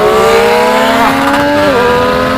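A Triumph Street Triple 765 RS motorcycle accelerates hard: a loud, close engine howl that climbs steadily in pitch with quick shifts where the tone dips, heard alone.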